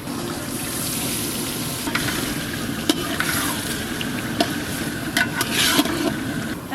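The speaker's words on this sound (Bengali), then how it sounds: "এই মশলা ধোয়া জলটাও দিয়ে দেব।" Spice-washing water tips into a hot frying pan and is stirred, giving a steady close watery sizzle and hiss with scattered light scrapes and clinks of the spoon throughout.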